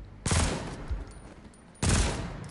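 Two bursts of rapid automatic gunfire from The Walking Dead Onslaught video game, loud and close, separated by a brief pause with no talking.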